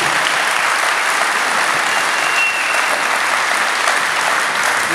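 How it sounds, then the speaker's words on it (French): Loud, sustained applause from an audience of mayors and guests at a cheque presentation ceremony for the Une Rose, Un Espoir 2025 campaign in Algrange; continuous dense clapping with no pauses throughout. "Mélanie, on peut applaudir."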